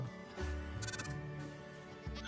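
A baby goat in Minecraft bleats several times, short, nasal, wavering cries in close succession, heard clearly and alone.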